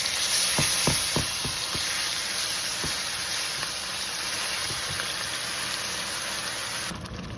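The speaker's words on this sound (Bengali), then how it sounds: "এখন এটাকে তেলে ভেজে তারপর বাকি মশলাগুলো এখানে কষাবো" Ginger and garlic frying in hot oil after onions, a dense loud crackling sizzle with several sharp ladle clacks early on, then steady frying to the end.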